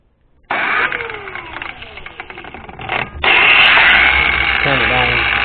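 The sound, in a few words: battery powered angle grinder switched on and running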